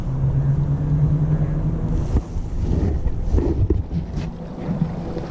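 A Newport Vessels 36 lb trolling motor pushes a kayak across open water, a steady low hum blended with wind buffeting the microphone and water wash, continuous and fairly loud throughout.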